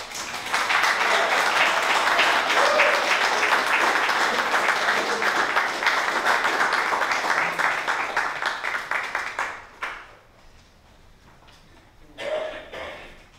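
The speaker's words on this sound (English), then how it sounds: "Another round of applause for Miriam O'Neill." An audience applauds steadily for several seconds, the clapping thinning out and fading, then a brief burst of clapping returns near the end.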